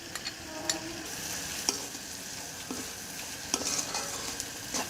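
Bay leaf pieces and a teaspoon of Bengali five-spice frying in hot oil, a steady soft sizzle with a spoon stirring and scraping the pan in intermittent taps, close and fairly quiet.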